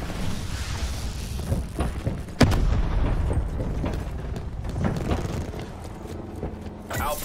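A frag grenade explodes in a Call of Duty: Black Ops 4 match, one sharp loud blast about two seconds in, set against constant gunfire and battle clatter, with a faint pop near the end.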